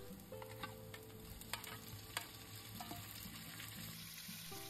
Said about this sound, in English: Spread the shrimp out and let them pan fry until the bottom is slightly golden.